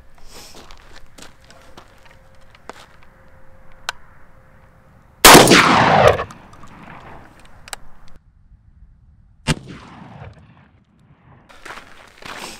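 A Beretta A300 shotgun loaded with Kent 3-inch number 3 shot fires one loud blast outdoors, followed by a second sharper crack a few seconds later, with quieter handling sounds around them.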